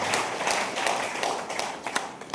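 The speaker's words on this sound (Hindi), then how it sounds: "एक जोरदार ताली" An audience at a DXN Ganoderma product meeting in India claps together in a brief burst of dense, steady applause, fairly loud and with no speech over it.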